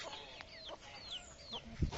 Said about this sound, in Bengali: মুরগির বাচ্চা হয়েছে এটা,